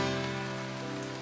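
Rain pours in Starbound as a dense, unbroken hiss over a steady droning background, loud and continuous throughout.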